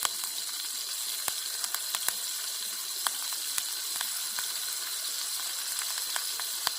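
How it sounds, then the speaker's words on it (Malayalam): Fresh river fish, caught moments earlier, sizzles and crackles as it fries in a pan at a rainy campsite, with a steady hiss and sharp little pops, close and fairly quiet with no talking. "ഫ്രഷ് മീനായോണ്ടാന്ന് തോന്നുന്നു പൊളയണ"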